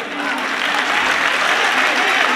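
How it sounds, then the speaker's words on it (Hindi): A hall audience at a Hindi poetry and song recital claps loudly and steadily in dense, sustained applause with no breaks. "जोरदार तालियां साथियों एक बार।"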